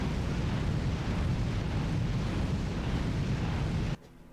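A fiery explosion in the Ratchet & Clank game roars as one loud, sustained rumbling blast for about four seconds, then cuts off abruptly to near silence.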